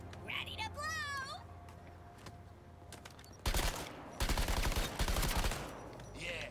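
Gunfire from the video game Suicide Squad: Kill The Justice League, with a brief character voice and chirpy effects early on, then two loud bursts of rapid automatic fire, the second longer and sustained, before things quiet down.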